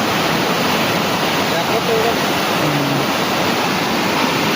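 A village lake in Naswadi, Chhota Udepur, Gujarat, overflows after heavy rain: loud, constant rush of water pouring, a dense roar like a spillway, with faint voices barely audible underneath.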